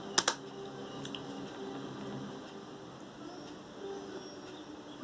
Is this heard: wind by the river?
no